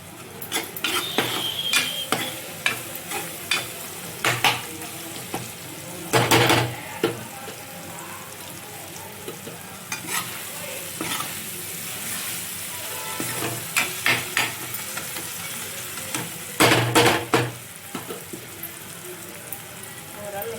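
Ingredients for a fish curry sautéing in a pan, with a soft ongoing sizzle broken by intermittent clanks and scrapes of a spoon against the pan, fairly close.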